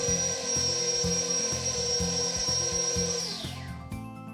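Electric mixer giving a fruit cake batter its final mix, a loud steady whirring motor with rhythmic beater thumps against the bowl, winding down and stopping near the end.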